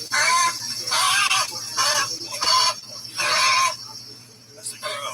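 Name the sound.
crow calling in a played video clip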